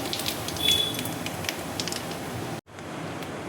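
Cumin seeds tempering in hot oil for a bread chaat fill the clip with a steady, close crackling sizzle. A brief drop to near silence comes late, then the sizzle resumes.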